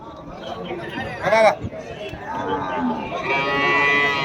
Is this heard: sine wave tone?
no